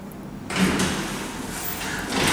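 Lift doors slide open with a smooth, sustained whoosh and rumble at a lift bank in the Capital on the Quay building, a soft mechanical hum carrying on close by after the movement begins.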